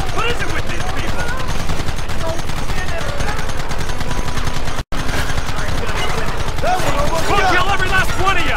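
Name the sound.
gunfire in Red Dead Redemption video game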